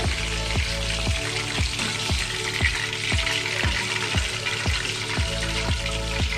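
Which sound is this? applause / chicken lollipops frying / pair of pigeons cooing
chicken lollipops frying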